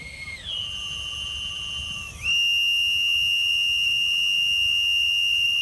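A Storm Whistle blown by compressed air sounds a steady, piercing tone that shifts and jumps louder partway through, then holds a sustained, shrill, very loud note.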